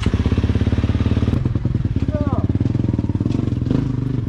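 KTM motocross motorcycles at a track in Dubai, engines droning loudly and steadily throughout with a rising rev midway, while people talk over the noise.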